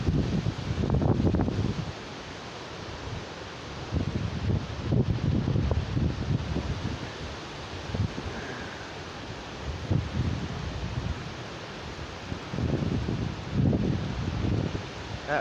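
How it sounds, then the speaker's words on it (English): Strong hurricane wind gusts during Hurricane Dorian in South Carolina rush through leaves, surging and easing in loud, broadband bursts that buffet the microphone, with brief voice sounds in between. "this wind's gotta be going 50, 60 miles per hour."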